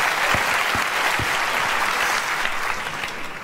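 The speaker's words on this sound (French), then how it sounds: "je pense qu'on peut encore les applaudir parce que c'était vraiment incroyable" Audience applause for competitors at a French national eloquence championship: steady, full clapping from a crowd of listeners with a few louder individual claps standing out, sustained throughout.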